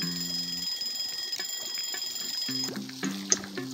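A repeated electronic order-timer chime in the video game Papa's Hotdoggeria rings in bursts, a steady bright tone with pulsing low notes, alone with no talking.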